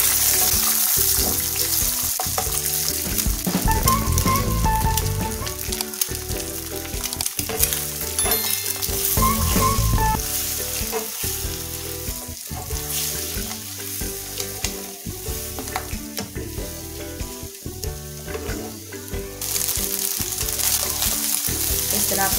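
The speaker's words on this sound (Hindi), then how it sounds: "पैन को ग्रीस करके थोड़ा सा एग डाल देना, साथ में आपने काली मिर्च डाल देनी और सादे वाला थोड़ा सा नमक।" Egg with black pepper and salt frying in a greased pan, crackling and sizzling steadily throughout, with scraping and tapping stirring strokes up close and no talk.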